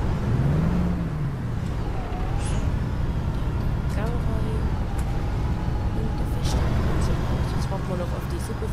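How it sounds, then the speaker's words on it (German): A bus engine in the OMSI bus simulator game gives a steady, loud low rumble with faint hissing, continuous for the whole stretch with no talking. "Und dann werden wir mal den Motor anschließen."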